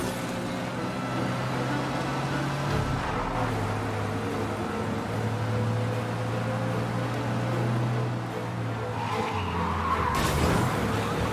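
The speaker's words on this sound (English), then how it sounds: "We lose them by driving real fast and getting clear of them." A car in the Mafia: Definitive Edition video game drives fast away from police in a chase, with a steady engine drone and long tire squeals throughout and no talk.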